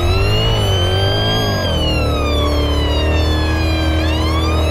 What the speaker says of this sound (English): whale sirens is the first siren for the quick switch sirens